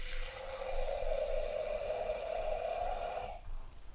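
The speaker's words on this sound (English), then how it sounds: "I'm going to add a little bit more water." Water pours in a steady stream into a thick curry masala for an egg curry, a continuous close splashing that runs for about three seconds, then stops abruptly.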